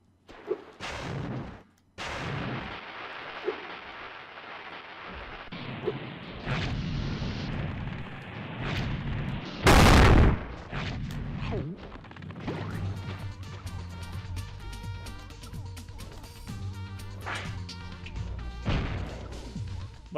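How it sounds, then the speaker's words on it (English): Explosions in Spyro 3: Year of the Dragon on a television, a string of harsh distorted booms and crashes, one very loud burst near the middle, then game music and effects continuing. "Oh, this sound is like really fucked up on the explosion here too."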